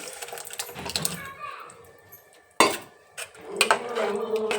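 Tamarind pulp stirred into curry in a metal pot, heard as clinks and scrapes of a spoon against the pot in uneven bursts, with a sharp knock midway and wet mixing sounds after it.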